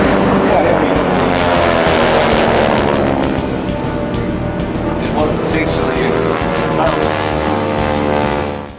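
Several North American T-6 Texan (Harvard) aircraft roar through a formation takeoff, a loud, continuous radial-engine drone with rasping propeller harmonics that holds steady throughout and fades slightly at the very end.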